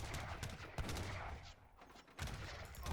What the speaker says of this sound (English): Insane mortar range putting in work here